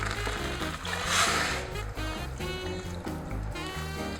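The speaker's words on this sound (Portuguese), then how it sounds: "Vai botar água aqui. Até cobrir um pouquinho." Water pours into a pan of frying rice, a continuous rushing, hissing flow with sizzling underneath, steady and fairly quiet.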